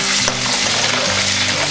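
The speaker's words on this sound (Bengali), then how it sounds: "এবার আমরা এর মধ্যে আলুগুলো ভেজে তুলে নেব।" Potatoes fry in hot oil, a loud, dense, continuous sizzle with a low hum beneath, close and steady throughout.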